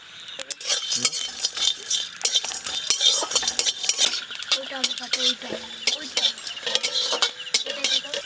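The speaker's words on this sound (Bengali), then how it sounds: "গোটা গোটা বিরিয়ানির মশলা আছে এগুলো আগে ভেজে নেবো শুকনো করাই নেড়ে নেবো ভালো করে" Whole biryani spices, including cumin, black pepper, cinnamon and black cardamom, are dry-roasted in a wok and stirred steadily, with repeated metal clinks and scraping and a light crackle throughout.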